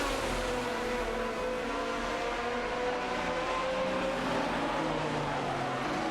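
Lamborghini Murcielago RGT and Aston Martin DBR9 race cars in a video game battle closely, their engines a steady, dense droning roar with sustained whining tones throughout.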